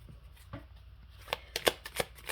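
Small tarot cards being shuffled, with soft riffling at first and then a run of crisp, closely miked flicks and slaps growing louder near the end.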